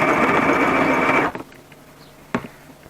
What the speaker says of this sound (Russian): Ломается иголка. Слишком толстый шов, друзья. Не хочет она ее шить.